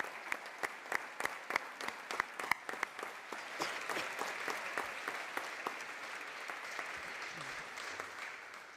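A crowd applauding FC Barcelona's players and coaching staff at a Women's Champions League celebration parade, with sharp, distinct claps standing out at first before swelling into steady, dense outdoor applause that carries on to the end.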